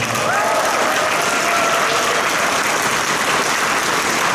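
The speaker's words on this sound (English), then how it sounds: "how about a round of applause for all the staff here at Bronycon." Convention audience at Bronycon 2017 applauding the staff, a dense, steady roar of clapping from a large crowd that fills the whole stretch without pause, with a few faint voices inside it.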